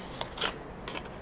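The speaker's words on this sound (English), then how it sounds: "Nearly finished the snipping." Scissors snip through a metal plate in a couple of quick, close, scraping cuts with gritty, raspy texture and short pauses between them.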